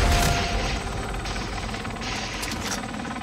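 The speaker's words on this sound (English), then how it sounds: "I love that I'm getting in the chopper," A helicopter in the video game Call of Duty Warzone roars loudly and steadily throughout, with a deep rotor rumble and no speech.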